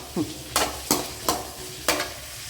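Ginger and garlic frying in a pan as they are stirred: a soft sizzle underneath four or five sharp scraping strokes spaced roughly evenly apart, close to the listener.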